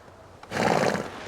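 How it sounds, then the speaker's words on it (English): A horse whinnies in the medieval life-simulation game Medieval Dynasty, a single loud neigh that swells about halfway through and holds steady to the end, heard alone without speech. "it may sound stupid, but I'm going to call this horse Porridge"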